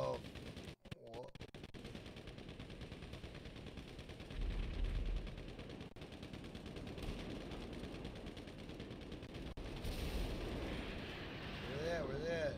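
Explosive weapon fire from a Hydra jet or laser in GTA 5, a steady roar of blasts and bursts across the whole stretch, heavier at a few moments, with a voice talking faintly underneath.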